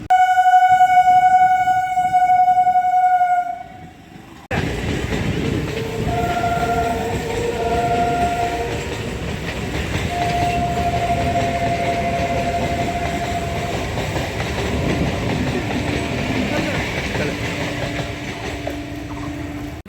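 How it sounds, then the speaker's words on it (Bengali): A train horn sounds loudly and steadily for several seconds, then a train rolls past close by with a continuous heavy rumble and clatter of wagons, with faint tonal squeals over the rail noise. "ট্রেন আছে।"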